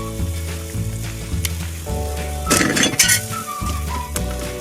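Tilapia pieces laid into a hot pan, a sizzle that flares up loudly midway with a few clinks of utensil on pan, all over a steady background hum, with no voices.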